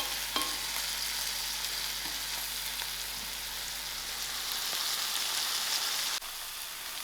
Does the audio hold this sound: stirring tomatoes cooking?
yes